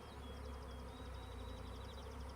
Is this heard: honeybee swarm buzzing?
yes